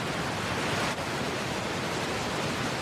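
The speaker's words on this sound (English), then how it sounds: "Nice little flurry of set waves here for our competitors." Ocean surf rolls steadily at Bells Beach during a surf contest, a dense, continuous wash of breaking waves with no break in the roar, fairly loud and close throughout.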